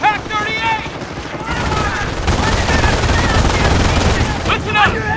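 Rapid machine-gun bursts and rifle fire crackle in a World War II battle in the video game Company of Heroes, loud and close, with soldiers shouting over the continuous fusillade.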